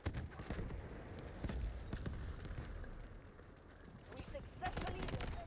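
Enemy recon gunfire in the Delta Force shooter game, bursts of shots popping at mid distance amid a noisy battlefield, with a person's voice talking over the fighting.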